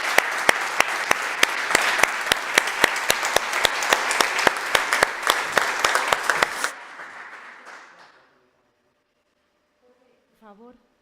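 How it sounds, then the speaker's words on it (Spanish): Audience at a talk event on cancer breaks into sustained applause, dense and steady with a few sharp nearby claps standing out, then fading into quiet with a faint voice at the end. "vamos a dar otro aplauso más"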